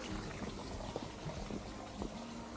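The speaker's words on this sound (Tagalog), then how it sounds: "May ilog din pala dito." Water flows in a small river beside a muddy forest trail in Camp John Hay, Baguio City, a soft steady rushing with faint gurgles and trickles throughout.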